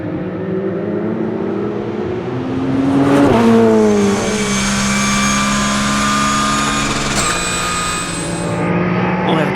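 Ferrari and Porsche race cars pass on the Dijon-Prenois circuit, engines loud and close, with rising and falling pitch as they shift and pass by, under continuous high revving.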